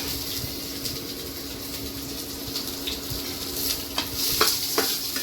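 Onions fry in a pan for chickpea pulao, a soft steady sizzle with stirring scrapes, a low hum and a few sharper clinks near the end.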